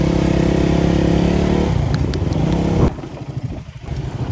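Motorcycle engines rumble close by for several seconds, a steady revving drone that drops in pitch and loudness partway through as the bikes move on.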